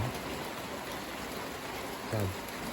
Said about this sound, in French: c'est de la forte pluie